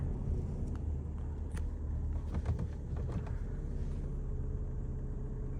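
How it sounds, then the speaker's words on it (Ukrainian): A Volkswagen Passat engine idles steadily, a low, even rumble with faint clicks and ticks over it, close and moderate in level. "Двигун працює чисто."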